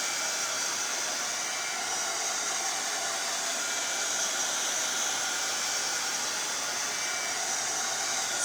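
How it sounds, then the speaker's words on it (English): A handheld dryer blows steadily on a craft ribbon, a loud, unbroken airy whoosh that holds at the same level throughout with no talking. "Let's grab my dryer here. I'm just going to dry this up a little bit."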